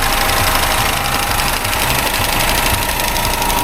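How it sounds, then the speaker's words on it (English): An Alfa Romeo engine runs at idle with a faint, rapid ticking over a steady mechanical hum, close up and continuous, with no voices. "Now the engine's got a ticking noise as well."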